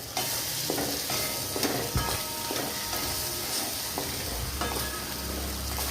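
Homemade paneer pieces frying in hot oil give a loud, continuous sizzle and hiss, broken by periodic stirring scrapes, with no one speaking.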